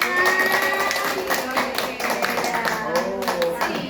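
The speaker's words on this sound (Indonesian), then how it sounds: "Tepuk tangan." A group of teachers at a school workshop on positive culture claps hands together in a rhythmic pattern of sharp, fairly loud claps, with voices mixed in beneath the clapping.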